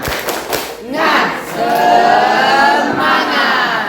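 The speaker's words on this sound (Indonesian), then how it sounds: "Oke, mulai tepuk semangat." A high school class chants together loudly in unison for a spirit clap and cheer, with a few claps and thumps at the start and voices rising into a sustained shout.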